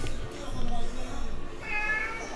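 A cat meows a few times in an indoor room, moderately near, mixed in with background noise and low chatter.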